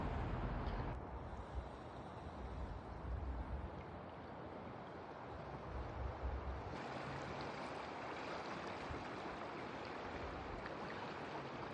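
Moving stream water flowing past light ice on a winter trail, a steady broadband rush that holds continuously throughout, fairly close and uninterrupted, with no talk.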